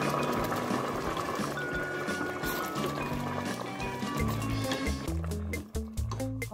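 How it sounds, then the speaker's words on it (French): Water poured into a pan of sautéed rice and sardines, a steady liquid splash and gurgle over sizzling, louder near the end. "Et là, je viens rajouter l'eau."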